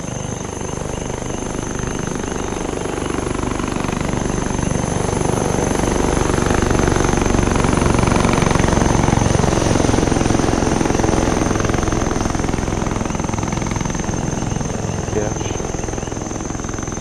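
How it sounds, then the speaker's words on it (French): A military helicopter passes overhead in the Arma 3 video game, a loud steady rotor and engine roar that swells and fades over several seconds, with squad radio talk around it. "l'hélico passe un peu trop souvent"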